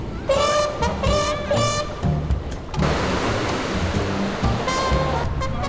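Pacific Ocean waves break on a small beach in Lima, Peru, a loud rushing wash of surf swelling and receding, mixed with music playing nearby.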